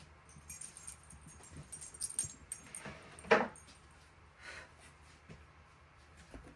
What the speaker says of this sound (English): I get up, my dog jumps in my seat.